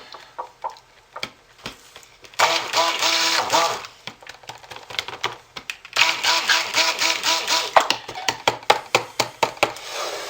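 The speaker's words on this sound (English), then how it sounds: "let's give these a quick blast with the stick blender" Two short bursts of a whirring stick blender close by, mixing soap, separated by clicks and tapping, with light knocks continuing after.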